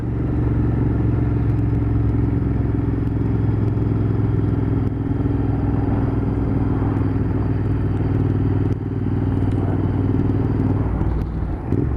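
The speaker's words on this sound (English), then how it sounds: "This bike has a good amount of engine braking." A nearby Royal Enfield Continental GT650 motorcycle engine drones steadily with a throaty, harmonic hum as the bike slows on engine braking, with occasional faint clatter.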